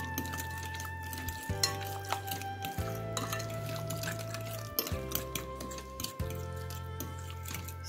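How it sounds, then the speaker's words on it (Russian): A fork scrapes and taps against a bowl in quick irregular strokes while cottage cheese and eggs are mixed, close up, with a steady hum beneath. "Перемешиваем все в однородную массу вилочкой."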